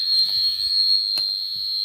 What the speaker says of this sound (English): that's the sound of the buzzer